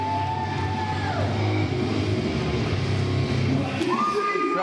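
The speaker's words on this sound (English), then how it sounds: "As you hear the crowd jump to their feet." A wrestling crowd jumps to its feet, cheering, yelling and whistling in a sustained, dense roar that stays loud throughout.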